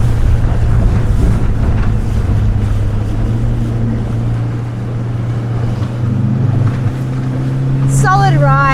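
A Highfield 390 Sport boat makes a sharp turn back through its own wake at about 4,000 RPM, a loud steady outboard drone under wind buffeting and water rush, with a voice speaking over it.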